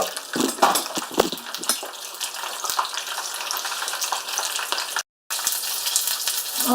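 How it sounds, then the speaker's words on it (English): Pork balls sizzle and crackle steadily in hot oil, a dense close frying hiss with small pops and stirring clinks, briefly cut out for a moment before resuming. "coat the pork ball, put it in the oil"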